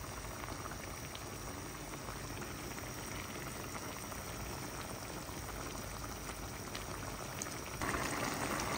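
Mixed vegetables simmer in a covered pot, a soft, continuous bubbling hiss with no breaks or voices that rises slightly at the end.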